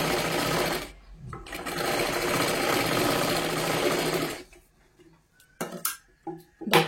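A sewing machine stitches a blouse seam in a loud, continuous close whir that stops briefly near one second, resumes, then cuts out around 4.5 seconds, followed by a few sharp handling clicks.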